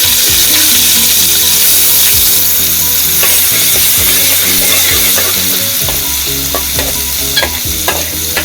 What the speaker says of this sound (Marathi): मी ही बारीक केलेली लसूण, आलं फोडणीला घालते